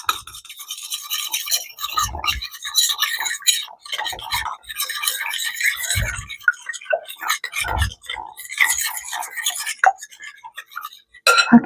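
Mixing up a single egg in a bowl as part of cooking with kids, with rapid clinking and scraping strokes of a utensil against the bowl repeating steadily throughout, close and fairly loud.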